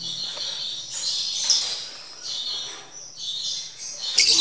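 A lovebird just let out of its shipping packing chirps in quick, bright bursts, several high calls coming close together and fairly near, with no talking over them.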